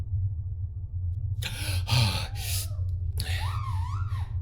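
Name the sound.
gasping for breath on waking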